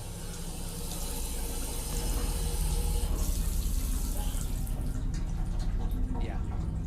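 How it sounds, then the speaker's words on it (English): A bathtub faucet turns on and water runs steadily, a continuous broadband rush that swells after the first couple of seconds, with a voice faintly audible underneath. "Bathtub faucet turns on."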